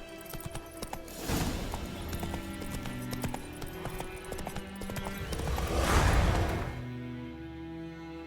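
Roach, Geralt's horse in The Witcher 3, trots with steady clip-clopping hooves for several seconds, joined by a brief neigh, with game music underneath and the hoofbeats stopping near the end.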